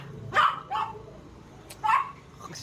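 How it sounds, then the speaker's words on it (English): A dog barks three times in short, sharp bursts, spaced unevenly, with quiet background noise between barks. "Why barking so much?"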